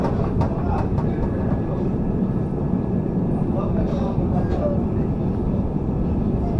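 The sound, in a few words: Tejas Rajdhani Express train departing Patliputra railway station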